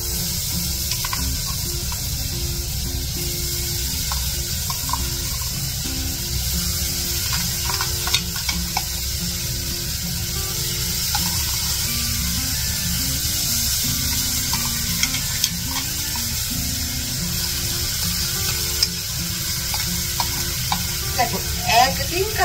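Spice paste sizzles and fries steadily in a hot pan while being stirred, with a continuous loud hiss and occasional scraping clicks from the spoon throughout.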